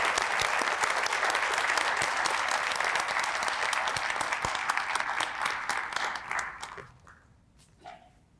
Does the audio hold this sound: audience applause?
yes